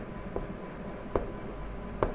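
Writing an example on a classroom board: three faint, brief taps and strokes spaced unevenly over a quiet room.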